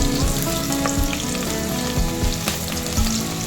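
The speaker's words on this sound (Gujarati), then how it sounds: "કાંદાને 2 થી 3 મિનિટ જેટલું ધીમા ગેસ ઉપર પકાવવા દઈશું" Onion sizzles steadily in hot oil over a low gas flame while cooking for a chana paneer bhurji gravy, a dense continuous crackle with occasional soft stirring clicks and no talking.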